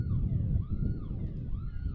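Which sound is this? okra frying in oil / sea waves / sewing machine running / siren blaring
siren blaring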